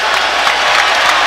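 Basketball arena crowd at a USC versus UCLA game, cheering and applauding in a dense, steady roar that fills the whole moment without a break.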